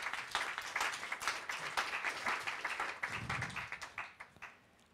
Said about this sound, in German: Klatsch mal für sie.